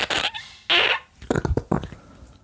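A person's voice imitates a wet diarrhea fart with a string of sputtering, spluttering mouth bursts, loud and close, separated by brief pauses.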